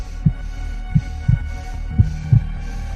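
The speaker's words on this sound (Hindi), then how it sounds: "उसे अपनी धड़कनें आसानी से सुनाई दे रही थीं।" Heartbeat sound effect in an audiobook drama: slow, evenly spaced deep thumps over a low steady hum, about five or six beats, with no voices.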